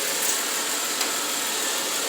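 A car engine left idling for a while with the hood up before a hot transmission fluid check, a steady even hum with no revving and no voices, heard close.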